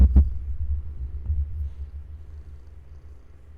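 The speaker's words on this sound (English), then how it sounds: "Oh, shall we mic the purring?" A cat purring right into a close microphone, a low, steady throbbing rumble that starts strongest and slowly softens, with no talking.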